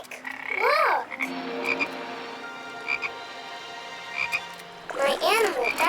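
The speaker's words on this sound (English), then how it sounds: "My animal database tells me it is a frog." Frog croaking in loud, warbling bursts near the start and near the end, with a droning, tonal background and soft chirps in between; no voices.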